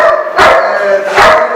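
A three-month-old puppy barks during attack training, two loud, close, sharp barks spaced about a second apart.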